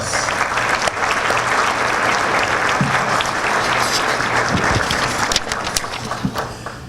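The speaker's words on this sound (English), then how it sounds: "Please give them a round of applause." A conference audience gives sponsors a sustained round of applause, loud dense clapping from a large room that swells steadily and tapers off near the end.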